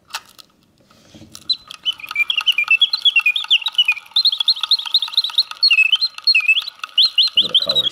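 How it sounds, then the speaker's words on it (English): An antique Antoine Salmon singing bird box automaton with guilloche and enamel case and its original colorful bird whistles a full, warbling song of rapid oscillating trills. It starts after a brief mechanical click and runs continuously, close and clear, with no talk. "It's a very nice singer. Sings with full voice, hitting all the proper oscillating notes."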